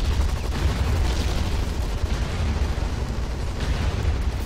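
Loud, continuous low rumble and roar of explosions mixed with gunfire in a zombie-mode video game shootout, dense and sustained throughout with no clear pause.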